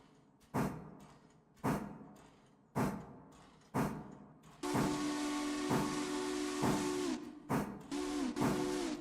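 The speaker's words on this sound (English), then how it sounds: "Confident whistle." A big steam locomotive sounds a confident, sustained whistle over loud hissing steam, preceded by several sharp rhythmic exhaust chuffs or thumps, with further chuffs breaking through the whistle blasts.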